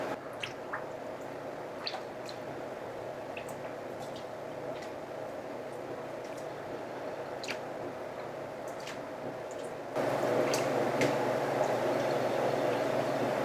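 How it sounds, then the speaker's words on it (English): Rennet water being stirred into milk heated to 100 degrees, a steady soft wet swishing with faint drips that grows slightly louder toward the end, with no talking. "Another container of rennet water. Stir that in really well."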